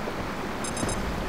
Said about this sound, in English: That's the proxy mines, and it's going to keep doing that.